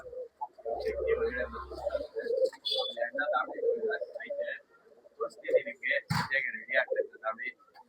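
Pigeons kept for sale in Bangalore coo and call in soft, repeated bursts close by, with someone talking over them throughout and a brief sharp knock partway through.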